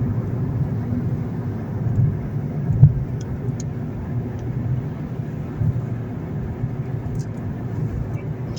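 Automatic car accelerating onto a 70 km/h road, a steady low engine and road rumble from inside the cabin with smooth, unbroken gear changes and a faint bump, no talk.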